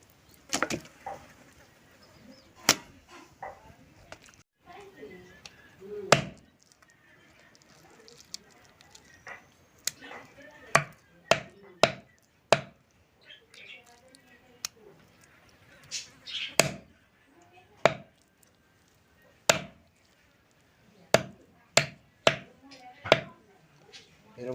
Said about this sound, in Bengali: এরকম করে পিস পিস করে কেটে নেব।